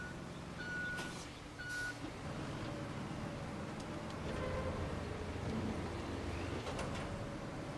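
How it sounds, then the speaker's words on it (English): Heavy trucks in the Roadcraft game, working through an earthquake-struck area, rumble and hiss with air brakes while a reversing alarm beeps in short spaced tones, moderately loud over continuous engine noise. "And bring the trucks through."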